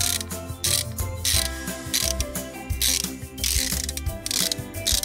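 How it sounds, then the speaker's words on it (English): A socket wrench ratchets in repeated bursts of fast, crisp clicking, close and loud with brief pauses between strokes. "I love my socket wrench."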